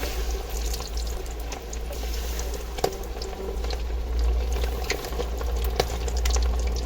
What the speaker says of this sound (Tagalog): yung mantika ay kumukulo-kulo na.